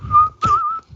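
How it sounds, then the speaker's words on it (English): A man whistles a short tune as he strolls into an overcrowded room of groaning patients, two clear melodic phrases close by over a low rumble of background murmur. "whistling a tune to himself as he slips off his aviators"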